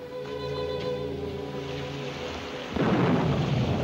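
Rain squall rolling in by the sea, a steady hiss of rain with a low rumble of thunder underneath that swells into a heavier, louder downpour near the end.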